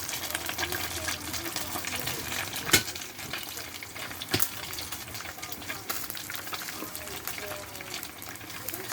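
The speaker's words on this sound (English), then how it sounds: "So the sauce is bubbling away." Sweet and sour sauce bubbles and sizzles in a pan with a steady wet crackle, broken by a couple of sharp clinks or scrapes, while a voice speaks faintly over it.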